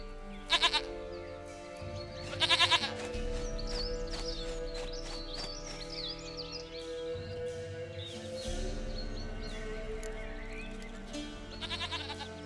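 Goat in The Witcher 3 video game bleats in two short, loud wavering cries near the start and another at the end, set against a steady game music bed with sustained tones.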